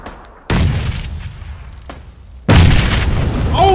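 Two heavy booms from grenade-type explosions in a shooter video game, the first abrupt blast followed by a sustained rumble, then a second louder deep explosion, with gunfire crackle and faint voices underneath.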